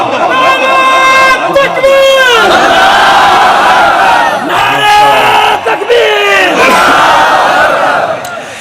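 Large crowd at an outdoor religious gathering in Punjab roars a chanted slogan response in unison, loud, rising shouts repeated in waves over about eight seconds, with a lead voice calling between them.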